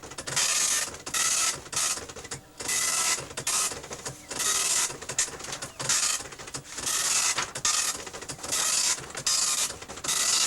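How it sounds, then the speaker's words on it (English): An old printer printing out data received through a 300 baud modem, a close rhythmic series of rasping print-head passes with brief pauses between lines, alone without talk. "And now you're hearing everything print out."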